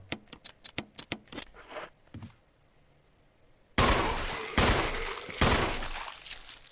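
Gunfire in a Resident Evil game rings out as a rapid string of sharp shots, then a short lull, then heavier, louder blasts and impacts that crowd together near the end.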